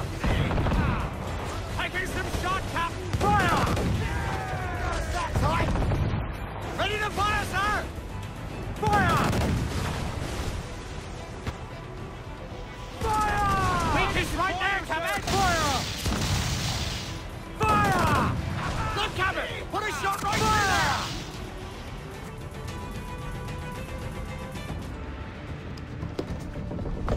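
Ship cannons firing in Assassin's Creed 4 Black Flag: repeated heavy booms and crashes in volleys over several seconds, mixed with creaking ship mechanisms and shouting crew voices.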